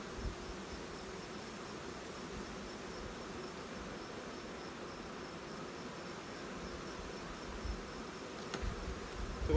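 Honey bees buzz inside a sampling tub, a steady, dense drone of many wings that holds level throughout at close range with no voices.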